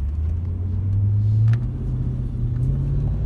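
A 2001 Mercedes W210 E55 AMG accelerates hard, its engine a deep, loud rumble heard from inside that holds steady and then rises in pitch, with no talk over it.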